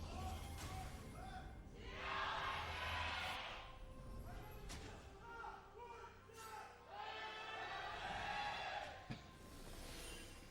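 Arena crowd at a 2020 Korean League of Legends esports match between Jin Air and Dynamics, with a cheering squad banging blue thunder sticks; roaring swells of cheering rise and fall over continuous commentator talk.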